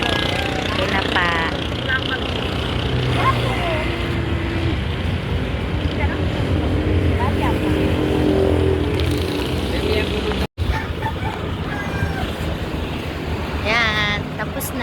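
A vehicle engine hums steadily through a ride, a constant low rumble with wind buffeting the microphone, while people chat over it and a brief dropout cuts in near the end.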